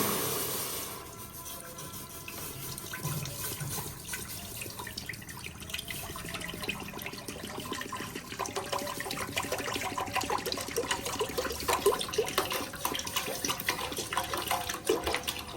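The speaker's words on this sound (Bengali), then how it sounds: "এই দেখেন আমি দুধটা ঢেলে দিলাম" Milk poured into a cooking pot for payesh with rice, a steady liquid splashing and gurgling that grows fuller and louder as the pot fills, close by with no talking.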